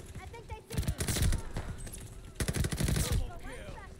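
Bursts of rapid gunfire from Call of Duty Vanguard gameplay, two loud sustained volleys of shots separated by quieter stretches with faint in-game background sound.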